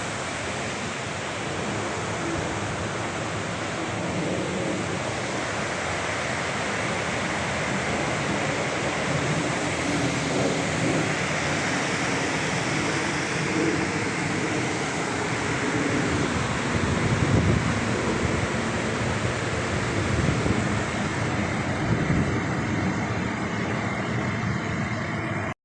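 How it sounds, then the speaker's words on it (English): Steady rain falling outdoors near Overtoun Bridge, a stone bridge in Scotland, an even, dense hiss that holds unbroken throughout, moderately loud, with no talk. "Raining, eh?"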